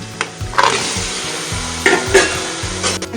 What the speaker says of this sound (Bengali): লঙ্কা লবণটা দিয়ে নাড়াচাড়া করে মাংসগুলো ঢেলে দেব